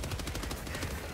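Rapid automatic gunfire in the co-op shooter Helldivers 2, a dense, evenly spaced burst of loud, close shots that fills the whole moment.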